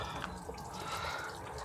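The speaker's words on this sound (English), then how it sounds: "So we're just filling up with water" A motorhome takes on fresh water at a campsite service point, a steady close rush of running water from a tap and hose continuing evenly throughout, with a few faint drips and no voices.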